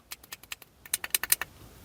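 Buttons on a Hiroyasu CB1011 27 MHz CB radio pressed in a quick run of sharp plastic clicks, about a dozen presses in irregular rhythm, close up and alone.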